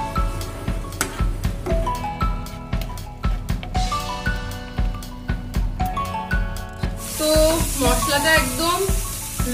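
Spice paste of Kashmiri chili powder, turmeric, sugar and salt fries in oil over a low to medium flame. A steady sizzle runs under loud melodic music.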